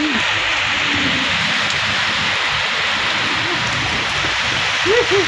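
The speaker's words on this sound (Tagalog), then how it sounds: "Grabe lakas ng ulan." Heavy rain pours down steadily in a constant loud wash, with a few faint voices buried underneath.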